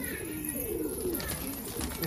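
A blue Patiala pigeon coos in soft low repeated phrases close by, over a constant background hum, with light voices mixed in.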